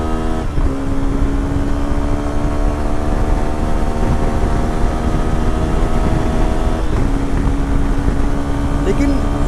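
Suzuki V-Strom 250 adventure motorcycle launched and accelerating, its engine drone loud and continuous, pitch holding then dropping briefly at a gear change before climbing again.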